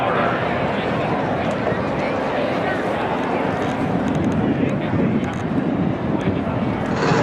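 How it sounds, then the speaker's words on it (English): A KC-135 refueling aircraft flies over New Hampshire Motor Speedway before a race, a loud, continuous broad roar that fills the whole stretch without letting up. "the KC-135 on the 101st Air Refueling Wing out of Bangor, Maine for today's flight"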